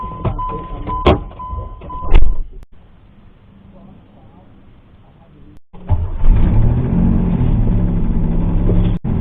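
A Pontiac Fiero GT engine with an exhaust leak runs nearby, a loud, rough low rumble that drops away for a few seconds and then returns as a steady idle, with a voice speaking over the first part.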